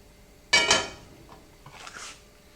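A large deep skillet set onto a stove makes one sharp metallic clank followed by a fainter rattle. The pan is then shifted quietly once.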